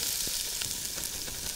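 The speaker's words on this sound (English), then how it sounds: "You can hear that sizzle." Garlic and onions sizzle in hot oil in a Dutch oven, a steady bright crackling hiss heard close and alone.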